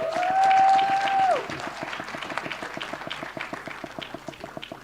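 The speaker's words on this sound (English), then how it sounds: "Please give them a round of applause." Conference audience at the Africa Rise Youth Indaba 2025 in a Johannesburg Radisson Hotel: a sustained tone fades out first, then thin, scattered clapping continues in a loose rhythmic patter from a modest crowd.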